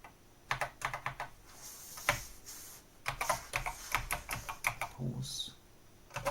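Keys tapped on a Memotech MTX512 computer keyboard, irregular bursts of clacky keystrokes in quick clusters with brief pauses, close and clear, with a voice speaking in between.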